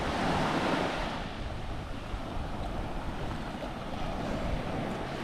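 Continuous wash of waves rolling in over shallow water where a lake meets the sea at İztuzu, Köyceğiz, Turkey, with wind buffeting the microphone; no voices.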